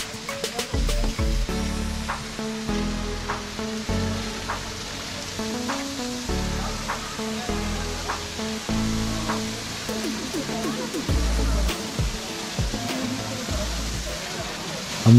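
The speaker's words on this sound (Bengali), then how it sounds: "এখান থেকে ঝর্ণার শব্দ শুনতে পাচ্ছি।" The Himchari waterfall near Cox's Bazar rushes steadily in the distance as a broad, continuous roar, with people talking over it.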